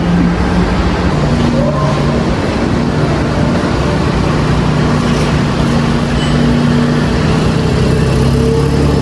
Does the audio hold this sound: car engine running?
yes